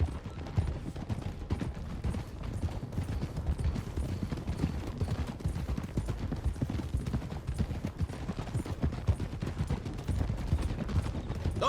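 Horses clip-clop along a road in Red Dead Redemption 2, a steady, dense hoofbeat rhythm running the whole time amid busy game sounds, with occasional faint gunfire-like bursts in the mix.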